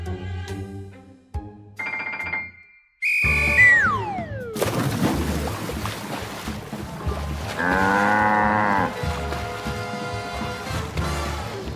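Loud cow moos mixed with other chaotic sounds: a falling whistle-like tone, a crash, and a wavering drawn-out bellow over busy background noise.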